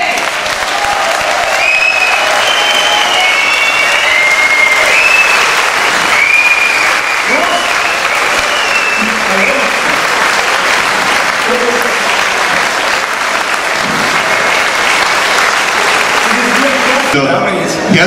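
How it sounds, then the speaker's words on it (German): Sustained, dense audience applause fills a Bavarian Starkbierfest hall after a Lenten sermon at the Moabether strong-beer festival, steady and loud for the full stretch, with cheering voices and murmurs mixed in and a brief lull near the end. "erst einmal ist es schon noch ein Applaus wert für den Christoph"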